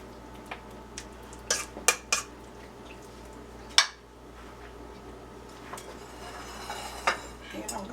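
Squash casserole mixture being stirred with beaten egg in a dish, giving faint scraping and a few sharp clinks of a utensil against the bowl, soft and close, with spoken words at moments.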